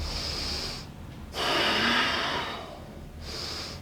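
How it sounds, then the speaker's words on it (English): Heavy nasal breathing during a seated yoga twist in a mixed martial yoga class, a loud forceful inhale-exhale cycle with short pauses, close and alone. "Breathing."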